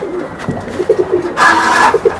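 Racing pigeons coo in a loft, a series of close, throaty rolling calls in short bursts, with a brief brighter chirping burst in the middle.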